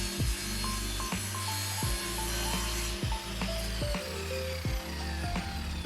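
Miter cuts being sawn for a wooden frame, close and fairly quiet: repeated rhythmic rasping strokes, roughly one per second, with a scraping, grinding texture throughout.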